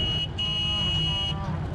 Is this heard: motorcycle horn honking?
yes